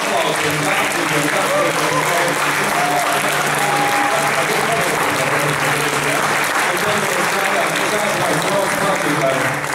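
A church congregation at a Sunday morning service applauds steadily, a dense wash of clapping from many hands that fills the room for about ten seconds, with faint voices underneath.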